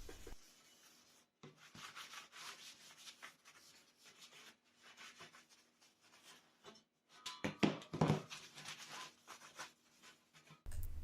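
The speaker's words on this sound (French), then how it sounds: "je viens ébavurer tout ça avec un disque flap" A flap disc grinds down metal welds on XXL steel table extensions, heard as irregular bursts of abrasive rubbing and scraping, quiet overall with louder passages toward the end and no talking.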